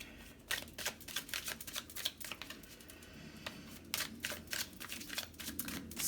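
A tarot deck is shuffled and cards are drawn, giving a close, quiet flurry of fast papery riffles and snaps with brief pauses between bursts.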